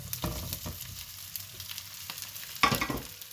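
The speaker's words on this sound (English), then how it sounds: "once the sesame seeds are popping, I am going to add in the chopped muthias" Chopped muthias made from leftover rice frying in about four tablespoons of oil with popping sesame seeds and garlic, a steady close sizzle broken by a few stirring scrapes and a sharper burst of crackle near the end.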